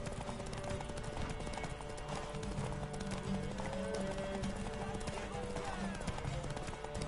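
A horse gallops in The Witcher video game, with steady rapid hoofbeats under game music and sound effects, while someone talks over it.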